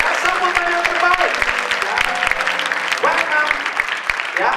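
An audience at a church vision night applauds to welcome a doctor onstage, a dense wash of clapping mixed with cheering voices and a few sustained tones, loud and near.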